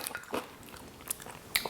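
Bites into a crispy homemade tostada shell give a few sharp, close crunches spread over a couple of seconds, quiet overall with no talking.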